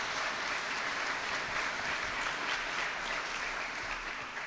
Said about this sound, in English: I appreciate the applause for 2 steps